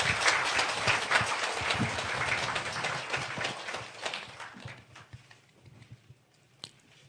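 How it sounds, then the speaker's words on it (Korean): An audience in a hall applauds outgoing Mapo district mayor Park Gang-su at his farewell ceremony. The clapping is brisk and fairly close, then gradually fades to a few scattered claps. "박강수 구청장님께 큰 박수 부탁드립니다"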